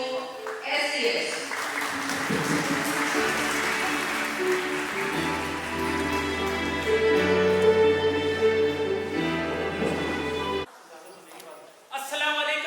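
An audience at an annual seminar claps to welcome the CEO on stage, steady applause lasting about ten seconds under music, then breaking off.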